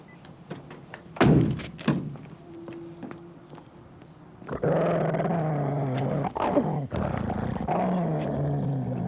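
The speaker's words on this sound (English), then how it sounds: "would you mind calling off your dog?" A dog growls low and steadily at close range, following a couple of heavy thumps, with the rumbling snarl continuing for several seconds.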